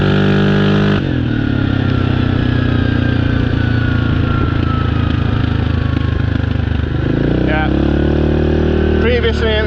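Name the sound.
Yamaha Grizzly 700 ATV engine popping while riding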